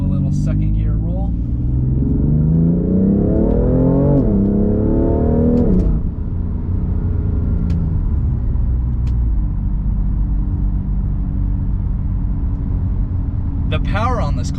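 A BMW M3 CS rolling on in second gear, its turbocharged engine and exhaust droning loud and close as revs climb steadily for several seconds, then easing to a steady lower cruise hum; a voice talks over it briefly near the start.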